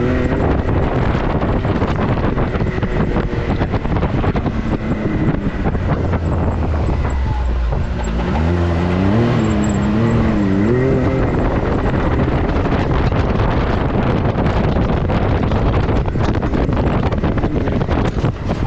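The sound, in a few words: Can-Am Maverick X3 RS side-by-side driving over a tabletop jump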